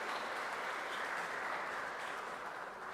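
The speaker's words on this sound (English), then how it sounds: "Let's give a big round of applause." Applause from an audience at an endowment lecture series valedictory function, a continuous, even roar of clapping heard from a distance, fairly soft and sustained throughout.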